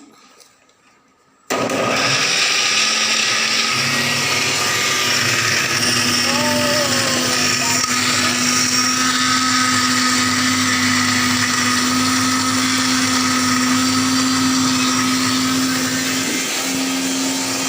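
After a brief quiet start, a mixer grinder whirs loud and steady, grinding dried fish into chutney with a sustained motor drone and rattling jar close by, running without a break.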